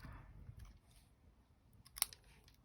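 Scissors snip through paper while roses are cut out for a shabby chic card, a faint quiet bed broken by one sharp, close crisp cut near the end.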